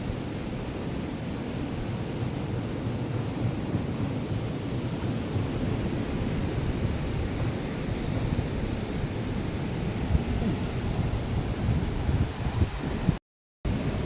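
Strong wind buffets the microphone at a beach at low tide in a continuous low roar, gusting unevenly for the whole stretch with no voices.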